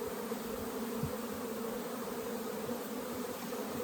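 Honeybees buzz in a dense, steady drone while frames are worked during a manual hive split into a nucleus box, with a few faint knocks underneath.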